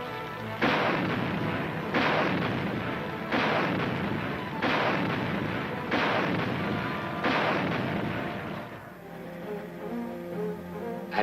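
Anti-aircraft weapons fire during military tests in a series of six heavy, evenly spaced booming shots about a second and a half apart, each with a rolling tail, then a quieter rumble.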